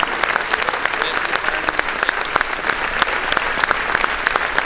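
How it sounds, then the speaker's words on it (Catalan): Loud, sustained applause from a crowd, dense clapping filling the whole stretch without pause. "Fort aplaudiment."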